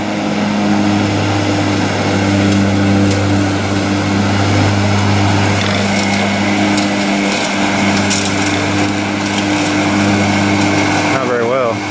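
A remote-controlled riding lawn mower's small engine drones loudly and continuously at close range, holding a steady humming pitch with some rattling, before a brief shift near the end.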